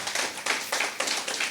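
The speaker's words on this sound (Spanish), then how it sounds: "¿Cuántos aplauden la palabra del Señor en esta mañana?" A church congregation applauds in a few short, loud bursts of clapping that swell and fade over about a second and a half.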